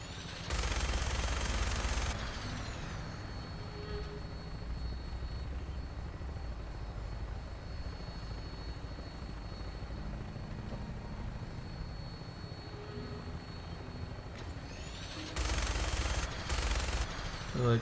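Aircraft in flight in the Fallout 4 video game, with a steady engine drone throughout and loud bursts of gunfire at the start and again near the end.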